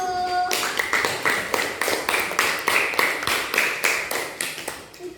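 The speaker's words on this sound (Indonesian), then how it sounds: "tepuk tangan untuk kelompok 1" A class claps together in rhythm for a student group in a classroom. The sharp, regular claps come about two per second, loud and steady, and go on for several seconds with no talking.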